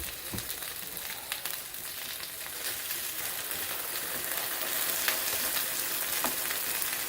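Tilapia fillets fry in oil, a dense, continuous crackling hiss with scattered pops that holds fairly steady throughout.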